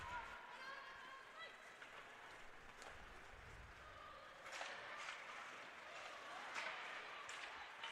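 Spectators at a women's ice hockey game between Salve Regina and Western New England clap from a distance in a rink, a faint, scattered patter of applause with some crowd noise beneath it.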